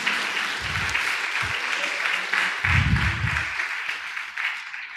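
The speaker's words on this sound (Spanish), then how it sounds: "¿Cuánto le dan un aplauso al Señor por esta palabra profética?" A church congregation applauding the Lord in praise, a sustained crowd of clapping hands with occasional low voices or thumps rising beneath it.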